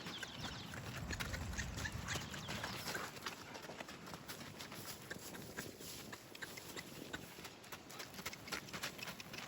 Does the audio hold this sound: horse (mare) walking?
yes